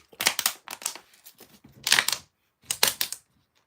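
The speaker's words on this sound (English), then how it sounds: "My water bottle." A plastic water bottle being clicked and crinkled close by, several bursts of sharp crackling clicks with short quiet gaps between them.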